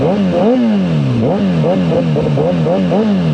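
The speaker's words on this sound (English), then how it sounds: "let's go ahead and give it a couple of revs" A Suzuki GSXR 1000R sport motorcycle engine revs repeatedly up to about 6,000 rpm, close and loud, the pitch climbing and falling in quick bursts over a steady idle.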